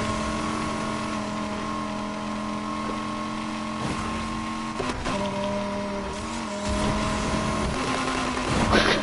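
A car engine in a racing video game drones steadily with a sustained tonal whine, shifting pitch briefly and swelling louder toward the end.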